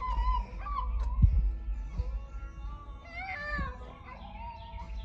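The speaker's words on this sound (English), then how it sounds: "Don't mind my little chihuahua making her noise over there" A small chihuahua whines and yelps in high, wavering cries, fairly faint and off to the side, over a low background rumble.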